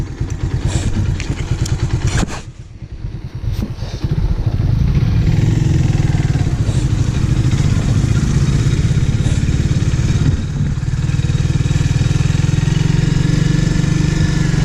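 A Kawasaki W175 and a Honda CRF 150 motorcycle ride along together, engines loud and close, a brief dip in sound before the riders accelerate and sustain a steady droning roar.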